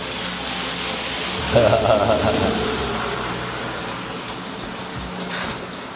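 Steady rain falls throughout as a broad, even hiss, with a brief louder gush partway through and people talking faintly over it.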